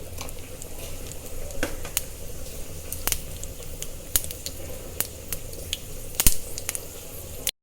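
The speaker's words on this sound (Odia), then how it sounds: "ଫୁଟଣ ମୋର ଫୁଟି ଆସିଲାଣି" Mustard seeds and spices sputter in hot oil in a pan, a close, steady sizzle broken by sharp popping crackles at irregular intervals.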